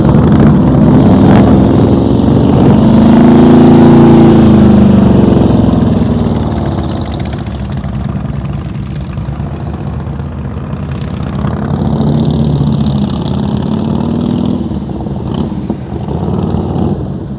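A motorcycle engine drones at slow riding speed during an advanced slow-speed riding practice session, its low tone rising and falling with throttle changes, loud and close with no talking.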